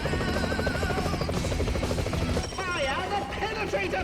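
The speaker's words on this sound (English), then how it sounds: "Just gotta wait for the helicopter to finish its little missile spree here." Helicopter firing missiles in the arcade brawler Double Dragon Neon, a dense, loud rotor drone mixed with rapid blasts and explosions over game music and effects, with talk over it.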